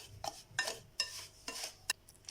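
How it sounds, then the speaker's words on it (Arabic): Oil being stirred into semolina in a bowl for harcha, a series of about five short scraping, clinking strokes of a utensil against the bowl, close and fairly quiet, with no voices. "غادي نحركوا هذا الزيت مع السميده"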